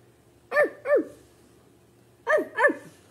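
Voices imitate a dog barking at a children's library lapsit, two quick pairs of clear barks separated by a short pause, close and distinct against quiet room noise.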